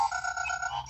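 Electronic beeping tone from an Ejen Ali Iris toy gadget, a steady synthetic warble with bright harmonic bands holding for about a second, close and alone.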